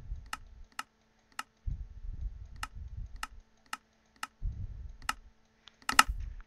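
Computer keyboard keys clicking loudly during Minecraft play, sharp isolated clacks spaced about half a second apart with bursts of low rumbling game sound between them.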